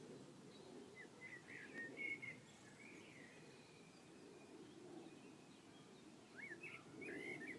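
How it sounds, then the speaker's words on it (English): Small birds chirp and whistle outdoors in a meadow of long grass, buttercups and clover, faint and distant, with scattered short bursts of song over a quiet, breezy background. "the birds are singing"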